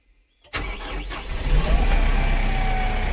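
A Kubota 135 hp tractor, three to four years old with about 1,785 hours, starts up loud and close after a moment of silence, then settles into a steady, heavy idle rumble.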